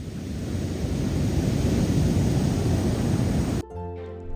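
Ocean surf rolls onto the shore as a loud, steady broadband wash for several seconds, with wind noise, then breaks off abruptly into quieter background.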